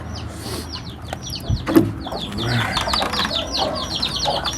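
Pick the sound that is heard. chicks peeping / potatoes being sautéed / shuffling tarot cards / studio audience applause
chicks peeping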